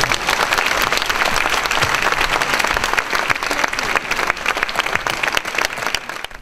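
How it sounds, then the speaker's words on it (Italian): Long, sustained audience applause fills a book festival event hall in Italy, dense and steady clapping from a large crowd for several seconds, staying loud throughout with no voices on top. "cui il pubblico tributa un lungo applauso"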